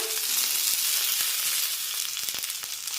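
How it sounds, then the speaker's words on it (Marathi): Garlic hits green chilies frying in a spoonful of oil in a pan for spicy green chili thecha, producing a loud, continuous close-up sizzle with faint stirring and no talking. "आता या मिरचीसोबत लसूण टाकूया"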